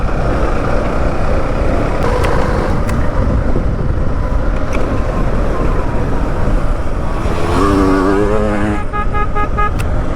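A two-stroke dirt motorcycle is ridden out onto a main road, its engine drone loud and constant throughout, with wind rush and some tonal, horn-like notes near the end.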